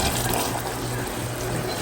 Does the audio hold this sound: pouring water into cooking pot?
yes